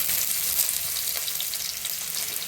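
Garlic and onion frying in hot tempering oil alongside dried red chillies for a restaurant-style amaranth greens kootu, giving a steady, close, dense sizzle with crackling pops throughout.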